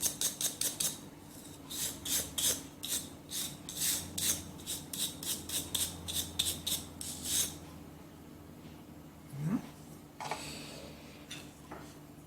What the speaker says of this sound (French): Il faut limer les ongles